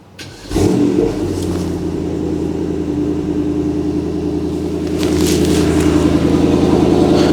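A salvaged Mercedes-AMG GT 63 S engine starts with a jolt, then holds a deep, loud steady rumble that swells into stronger revving near the end.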